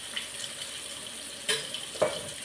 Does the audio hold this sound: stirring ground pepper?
yes